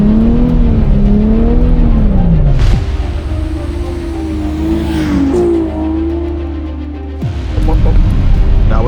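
A Nissan 370Z Z34 sports car drives and turns in snow, its engine humming steadily with rising and falling revs, briefly easing off mid-turn before picking up again.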